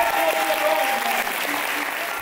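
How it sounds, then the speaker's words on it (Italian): An audience at a live game show applauds, a dense, even burst of clapping that fades slightly, with a faint voice underneath. "Un applauso a Dolmen."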